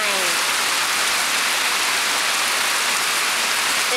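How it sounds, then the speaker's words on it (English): Heavy tropical downpour pours onto a lake in the Khao Sok rainforest, Thailand, a dense, constant roar of rain hitting water that stays loud and unbroken throughout. "It is a downpour."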